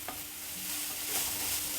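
Close, continuous sizzle of onion and ground masala frying in a pan, with a spoon scraping through the mixture, alone without speech.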